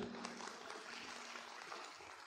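Audience applause at a music project launch event, honoring a music video, a dense, even spread of clapping heard at a distance and quite faint.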